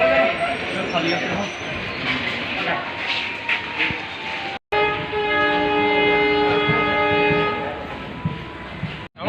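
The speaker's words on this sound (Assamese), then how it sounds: "ট্ৰেইন আহি পাই গ'লহি" A train rumbles into a station with a long, loud, steady horn blast, while voices chatter nearby in the background.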